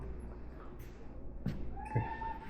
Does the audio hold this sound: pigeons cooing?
no